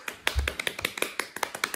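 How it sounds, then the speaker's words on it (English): Children clapping at a school celebration assembly, a quick run of a dozen or so sharp, close claps in an uneven rhythm. "You want to give them a clap, Martha?"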